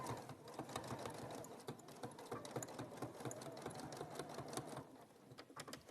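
Sewing machine running steadily at a fast even stitching rhythm, close and continuous, stitching a stay stitch along the bottom of a garment piece, no voices.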